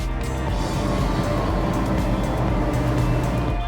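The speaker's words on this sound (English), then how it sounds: "Let's start by bringing the engines at their highest cruising pace, meaning the one that you can keep for a long time." De Antonio D32 Open motorboat with its engines held at high cruising speed, a steady loud droning roar with rushing water and wind noise, constant and close throughout.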